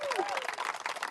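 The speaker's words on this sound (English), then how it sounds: "A big applause for him." Applause from an audience at a human-powered race finish, a short burst of scattered clapping with a voice speaking briefly over the start.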